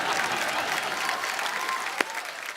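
A studio audience at The Kapil Sharma Show applauds to welcome guests, with dense, even clapping filling the whole stretch and a sharp single clap standing out near the end, and faint voices sit beneath the applause.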